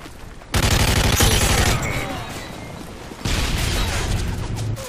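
Sustained rapid gunfire in Modern Warfare 3 multiplayer, dense and loud, with a sharp burst starting abruptly and a second swell of shots partway through.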